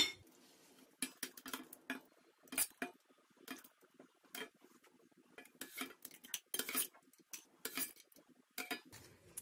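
Homemade jam goes by spoon into glass jars, with light metal-on-glass clinks and scrapes coming in irregular bursts between short quiet gaps, close and fairly soft.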